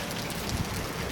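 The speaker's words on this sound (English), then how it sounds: "All that hail," Rain and hail falling steadily outdoors during a stretch of wild weather, a dense, even wash of pattering impacts with no voices over it.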